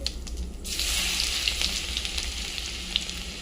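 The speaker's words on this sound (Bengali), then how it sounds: "কড়া বসিয়ে দিয়েছি, তেলটা গরম হয়ে গেছে। দেবো জিরে ফোড়ন, শুকনো লঙ্কা ফোড়ন, আর দেবো একটু হিং ফোড়ন। দেবো রসুন কুচো" Chopped garlic hits hot oil in a kadai already tempered with cumin seeds, dried red chili and hing, setting off a steady, close, bright sizzle that holds evenly without any voices.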